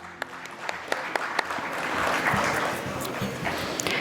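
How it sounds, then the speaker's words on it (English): A round of applause from the audience at an agricultural conference inauguration as guests are invited onto the dais, heard fairly faint and distant, swelling slightly midway, with a few sharper nearby claps standing out. "Everyone, please give a big round of applause."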